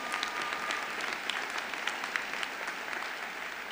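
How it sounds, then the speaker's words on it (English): Audience clapping at a college commencement ceremony, a fairly quiet, even patter of many hands heard from a distance, with a few sharper individual claps standing out. "I think that deserves a round of applause right there,"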